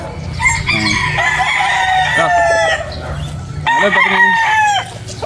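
Sweater Gilmore gamefowl breeder roosters crow loudly in long drawn-out calls, one crow running through the first few seconds and another following near the end, with clucking and farmyard noise underneath.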